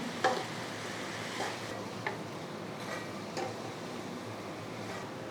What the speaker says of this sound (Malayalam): അപ്പോൾ ഇത് ലോ ഫ്ലെയിമിൽ ജസ്റ്റ് ഒന്ന് ഇളക്കി കൊടുക്കാം